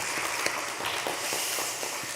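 A church congregation applauds together during a Thanksgiving Sunday service, with a steady, dense patter of clapping that holds at an even level for a couple of seconds.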